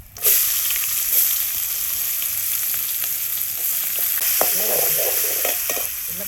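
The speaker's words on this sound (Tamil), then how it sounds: "வெந்தயம் பெருஞ்சீரகம் வெங்காயம் வேகுது." Fenugreek seeds, fennel and onion frying in a pan for a village-style fish curry, a loud continuous hiss with occasional stirring scrapes, close by and without speech.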